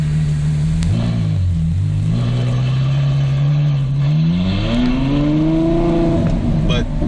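A tuned Ferrari F12 with an FI exhaust revs hard in first gear, its engine note climbing steadily in pitch as it accelerates, loud and close throughout.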